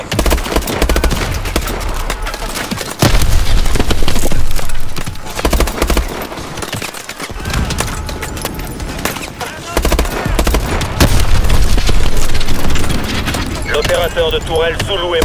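Sustained automatic gunfire from the Call of Duty: Advanced Warfare video game, loud and dense, rattling almost without pause, with voices mixed into the battle noise.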